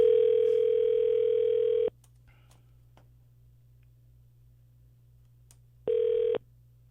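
A telephone ringback tone sounds while a call connects to an agent: one long ring of about two seconds, a pause of roughly four seconds, then the start of a second, shorter ring, alone over a faint line hum.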